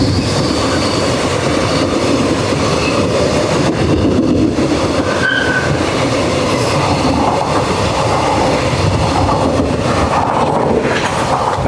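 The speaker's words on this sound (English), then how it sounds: "Oh, it's the cargo train." A cargo train rolls past a level crossing in Japan with a loud, continuous rumble and wheel noise, with faint squeals rising now and then as it passes close by.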